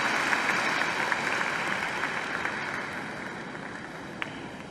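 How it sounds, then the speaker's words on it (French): A crowd applauds at a ceremony for International Women's Day in Mauritius, honouring a winning university team; even, moderate clapping fills the whole stretch without pause. "On peut les applaudir bien fort."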